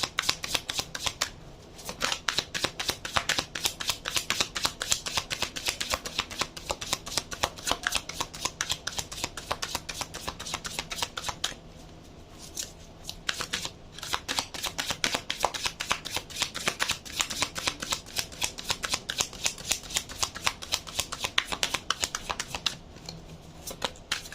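Tarot cards being shuffled close up: rapid, crisp riffling and slapping in quick bursts, broken by a few short pauses, with no voices.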